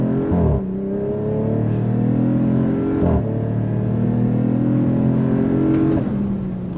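A 2026 Dodge Charger R/T AWD sedan accelerates hard on throttle, its engine note climbing in pitch through three rising pulls, each broken by a brief dip at a gear change, loud and close with no talking.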